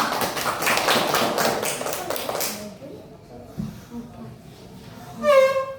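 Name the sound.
applause, clapping for the students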